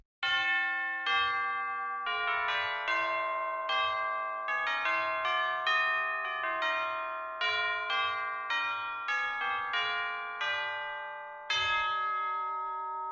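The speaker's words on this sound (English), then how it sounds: "Tubular bells." Tubular bells from a percussion sample library ring out alone in a slow melodic sequence of clear, bright strikes, each tone sustaining and overlapping the next with long shimmering decays.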